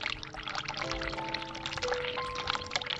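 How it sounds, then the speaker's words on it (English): Water pours steadily from a tap into gloves in The Cat Lady video game, a continuous close splashing stream with a rising tone as the gloves fill. "Let's fill the gloves with water"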